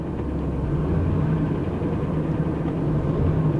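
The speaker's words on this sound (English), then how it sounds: "Hear that whine? Sounds like it's coming from the transmission." A 2012 Chevy Cruze Eco runs with a steady, close low hum, and a faint transmission whine rises briefly now and then above the drone.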